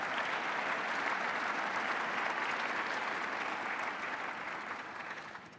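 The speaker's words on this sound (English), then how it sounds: "So if you wouldn't mind giving a round of applause for the Sacramento Convention and Business Bureau." A large audience at a Sacramento mayor's State of the City event applauds the Sacramento Convention and Business Bureau, a steady wash of clapping that slowly fades at the end.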